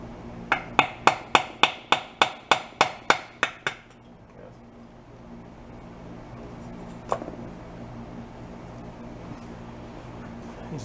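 A hammer taps a screwdriver to free the reed valves on a 1973 Yamaha Enduro 175, with about a dozen sharp, evenly spaced metallic strikes close up, then quiet with one later clink.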